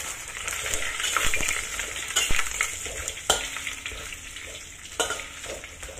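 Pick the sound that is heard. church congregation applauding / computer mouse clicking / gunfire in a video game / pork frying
pork frying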